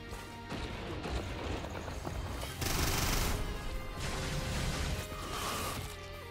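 Enemy gunfire in the Risk of Rain 2 video game rattles in dense, continuous minigun-like bursts with crashing impacts. It swells loudest midway, then keeps pounding steadily without talk.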